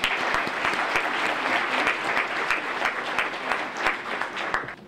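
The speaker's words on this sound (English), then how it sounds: "Let's give them a round of applause." Chamber of Commerce small business awards luncheon audience applauds its sponsor, with steady, moderately loud clapping from a room of people and individual sharp claps standing out.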